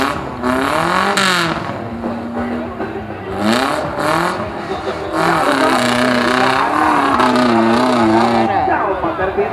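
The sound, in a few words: off-road car revving its engine at an off-road event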